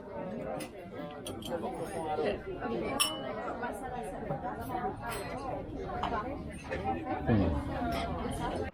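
Glasses clinking in a toast at lunch, light bright clinks among cutlery and dish sounds under steady nearby conversation and background chatter.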